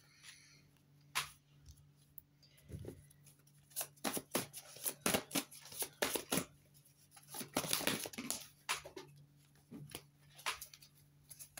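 Tarot cards handled and an advice card drawn from the deck, heard as a run of crisp, close papery snaps, flicks and rustles in irregular bursts, with no talking.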